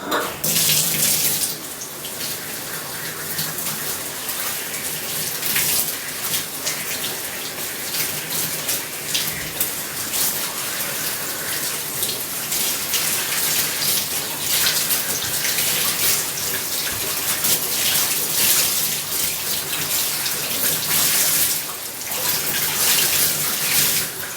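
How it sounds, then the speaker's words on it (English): Cold tap water runs steadily into a bathtub as a cosplay wig with pigtails is rinsed beneath it, a continuous close splashing hiss with small shifts in flow, no voices over it. "I do cold water and I just run it under there and I make sure to get all the soap out."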